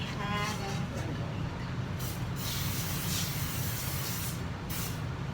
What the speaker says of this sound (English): do you want to spray?